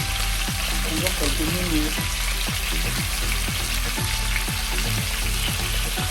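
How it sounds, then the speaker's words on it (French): Smoked fish fries in oil with a dense, steady sizzle and crackle, close and continuous, while a voice speaks briefly over it. "j'ai mis du poisson dans de l'huile, poisson fumé dans de l'huile pour frire"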